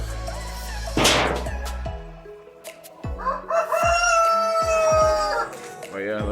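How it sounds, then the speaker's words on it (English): Hens and a rooster, just sold by a kid as a batch of local chickens, cluck and crow loudly at close range, with a long crow rising above sharp clucks and some handling noise. "Man, this is another hen right here."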